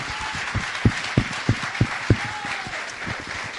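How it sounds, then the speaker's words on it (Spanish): A church congregation claps in a loose, rhythmic burst of applause, individual claps standing out sharply at first, then fading into a softer, scattered patter. "¿Qué les parece si damos un aplauso al Señor por su iglesia?"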